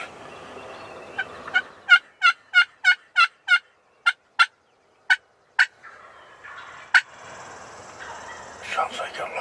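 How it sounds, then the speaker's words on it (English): Wild turkey jakes gobbling in a rapid series of bright, rattling calls, a cluster of about a dozen gobbles at moderate distance, some overlapping, with quiet outdoor background and soft speech around them. "Sounds like a bunch of jakes."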